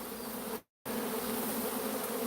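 A large swarm of bees buzzes in a bush near Sierra Vista, making a dense, continuous hum that breaks off briefly into a moment of silence before resuming just as steadily.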